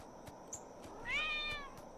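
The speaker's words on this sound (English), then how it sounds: "Yeah, that's the cat." A cat meows in a farming video game, one rising, drawn-out meow near the middle over soft ambient game sounds and faint periodic clicks.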